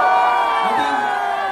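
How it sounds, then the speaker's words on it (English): Fans scream and cheer at a live film promotion event at Dubai Global Village, a sustained, high-pitched crowd roar that carries on loudly with no break. "Whatever we say, people are just going to scream."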